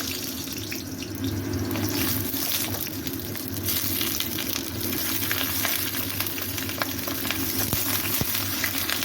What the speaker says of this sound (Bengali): বেগুনগুলো আমি ভালো করে ফ্রাই করে নেব।